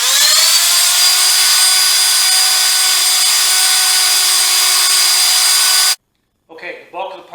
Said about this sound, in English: what I need to do is sand the front edges of these to get off any marks